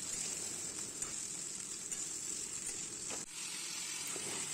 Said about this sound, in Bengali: ওটা একসাথে একটু ভেজে নেবো তেলে হলুদ দিয়ে, নুন আর হলুদ দিয়ে ভালো করে ভেজে নেবো।